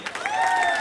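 Crowd at a live village dance show cheering and clapping, a dense wash of applause with high whistles and shouting voices, loud and steady throughout the short burst.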